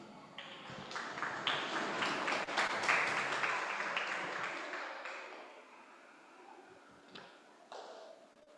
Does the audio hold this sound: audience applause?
yes